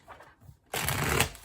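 Tarot cards are shuffled in a burst of dense, crisp riffling that starts suddenly partway through and stays loud and close to the end, after a quieter stretch of faint handling.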